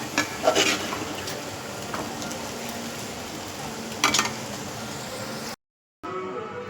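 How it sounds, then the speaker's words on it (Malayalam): Clattering pan and stirring as chicken goes into hot masala for a spicy chicken curry gravy, a steady broadband rustle with a few sharp clanks near the start and midway, then a short silence before it resumes. "അടുത്ത് നമുക്ക് ചിക്കൻ ചേർത്ത് കൊടുക്കാം."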